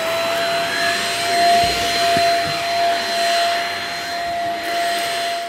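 A corded vacuum cleaner runs steadily with a loud, whining motor hum and airy rushing noise that gently swells and fades, close by with no voices.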